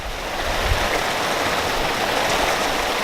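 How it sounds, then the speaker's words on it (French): Steady, dense rainfall hissing continuously, a broad wash of falling water with no voices. "il pleut dans le sud"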